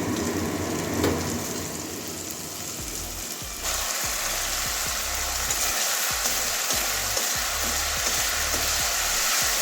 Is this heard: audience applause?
no